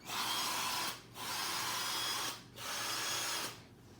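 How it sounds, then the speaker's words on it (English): A Rona cordless drill runs in three loud, close bursts, each about a second long, split by short pauses where the motor spins down, with no talking. "Drill works fine."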